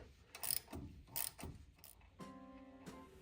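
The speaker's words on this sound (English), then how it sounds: "basically we're just chasing the thread here with a good bolt" Bolt threads being chased on a car's front brakes: metallic ratcheting and grinding clicks in uneven bursts, then a steadier squeaky rasp, close and moderately loud with no talk.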